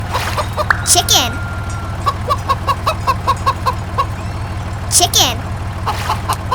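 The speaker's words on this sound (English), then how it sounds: "Chicken." A farm chicken clucks in short, repeated bursts close by, over a constant low engine hum, with a couple of louder squawking calls breaking through.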